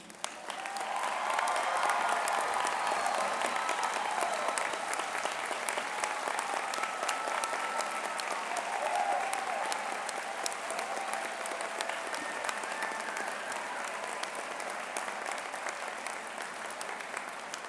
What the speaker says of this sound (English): show your appreciation to them with your applause